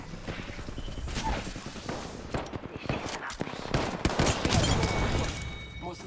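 Rapid gunfire bursts from the video game Apex Legends, sharp repeated shots in quick rattling volleys, some clusters louder and denser, with brief gaps between runs of fire.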